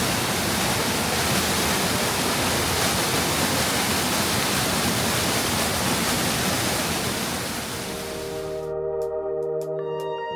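The Basin Cascades waterfall in New Hampshire rushes in a dense, steady roar of falling water, close and constant, ending in a brief burst of tonal music.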